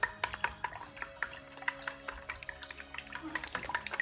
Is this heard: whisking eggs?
yes